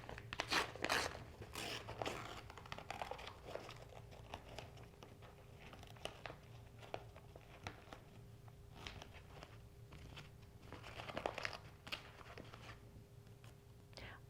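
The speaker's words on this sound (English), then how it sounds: "And because I used tear away, I'm going to tear mine away." Tear-away embroidery stabilizer being pulled from a stitched table runner, producing soft crinkly tearing and crunching bursts that come and go over several seconds, fairly faint and close by.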